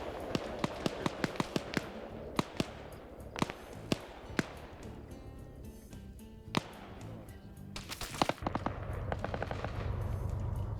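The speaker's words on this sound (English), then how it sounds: "Dishka firing back there." A DShK heavy machine gun fires in a military video game, with distant sharp reports in short bursts and scattered single shots, faint against background ambience, ending in a denser rattle.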